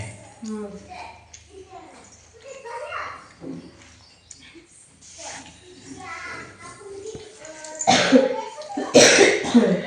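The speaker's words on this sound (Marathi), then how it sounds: "तुला खोकला येतोय" A few sharp, loud coughs come near the end, following a stretch of conversational talk between people, with a voice continuing around the bursts.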